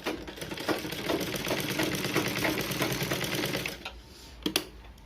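A sewing machine stitching a blouse piece runs in a fast, steady mechanical whir for several seconds, then slows and stops, followed by a few separate clicks and knocks.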